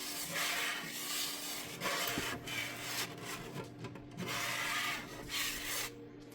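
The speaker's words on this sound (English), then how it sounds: "And then I use this little brush. It's got these hard little short bristles to get in there real good." A small stiff-bristled brush scrubs a 10-inch cast iron pan, giving repeated close rasping strokes in uneven bursts with brief pauses between them, and no voices.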